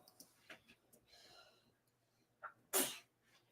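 One sharp, loud sneeze bursts out near the end, preceded by soft breaths, rustling and faint indistinct voice sounds in a quiet room.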